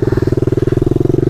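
A pit bike engine pulses hard and loud right up close, a fast, even throb of firing strokes with a rough mechanical edge, held steady for about a second as it revs for a wheelie attempt.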